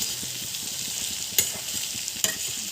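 Boiled, diced Assamese potatoes are stirred with pigeon meat and spices in a hot pan: a constant close sizzle under soft stirring scrapes, with two sharp clacks of the utensil against the pan and no speech.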